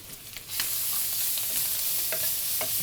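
Garlic paste frying with dried fish in a pan, a bright steady sizzle that swells loudly after a quieter start, broken by occasional scraping stirs, close up and without voices.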